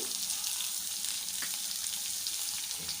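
Onions fry in hot oil with fenugreek seeds for a Mangalore-style chutney, giving a soft, continuous sizzle and crackle with a few light stirring scrapes.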